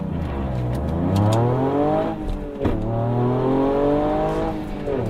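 A Toyota hot hatch's turbocharged 1.6-liter three-cylinder engine revs hard and loud, rising and falling through two sweeping pulls with a brief break between, alone and close.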